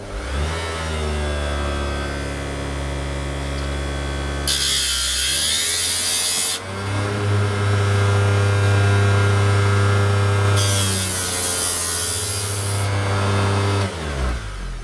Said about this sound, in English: I'm just going to grind the thing to shape